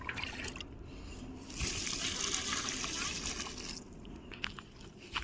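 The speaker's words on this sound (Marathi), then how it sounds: "आता आम्ही जाळ्यांना पाणी टाकू राहिलं" Water is poured from a mug onto young vine plants, giving a soft, steady splashing gush that swells midway and then eases. The sound is faint and continuous, with a voice heard in the background.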